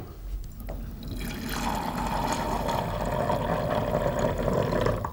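Liquid poured into a container to dilute a chemical solution, a steady close splashing and filling sound that starts softly and grows fuller after about a second, with no speech.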